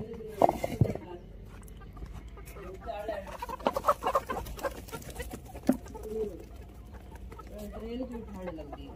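Chickens cluck and murmur nearby in irregular bursts, with other fowl sounds and some quiet background talk.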